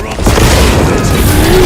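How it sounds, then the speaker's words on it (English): A frag grenade detonates in the video game Space Marine II, a loud, deep boom that swells early and rumbles on through the short clip beneath a rising tonal whine. "Frag grenade out!"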